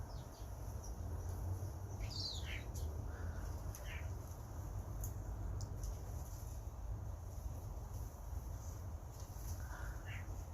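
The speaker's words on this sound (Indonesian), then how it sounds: "Burung peleci tuh." Tame peleci birds being fed bread outdoors, a few short calls and chirps scattered over a steady noisy background, moderately close.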